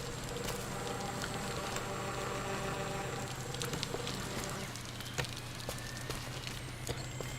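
A steady broadband rush of falling water from a waterfall in the video game Scanner Sombre, continuous and fairly loud throughout, with a few faint clicks and taps near the end.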